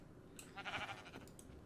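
Sheep in a village in the video game Minecraft give a single short, quiet bleat amid faint clicking.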